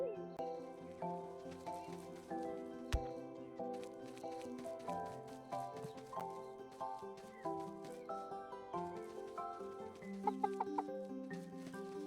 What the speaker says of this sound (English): Just feed our chickens.